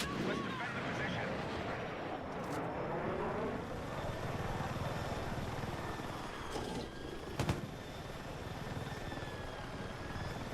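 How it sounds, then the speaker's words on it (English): Helicopter and plane flying past in a video game, a dense rumbling engine and rotor drone that builds and fades, with a couple of sharp bangs near the end. "One of those sounded like a helicopter and the other one sounded like a plane."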